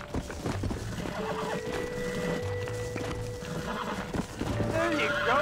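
A horse in the video game Red Dead Redemption gives several loud, close whinnies over clip-clopping hooves and game sound, with someone talking in between.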